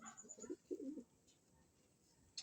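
A pet pigeon cooing at home, two soft, throaty coos in quick succession near the start, then quiet room tone with a faint click at the end.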